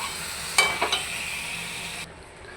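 Sugar melting over low gas in a pan gives off a steady, fairly loud broadband sizzle, with a few short scraping stirs near the start, before the hiss drops away abruptly toward the end.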